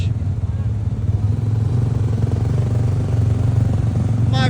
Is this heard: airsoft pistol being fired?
no